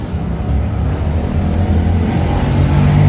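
A Mitsubishi L300 engine idling nearby, a steady low rumbling drone that holds evenly throughout with a slight rise near the end.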